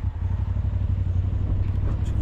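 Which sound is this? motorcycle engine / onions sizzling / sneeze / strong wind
motorcycle engine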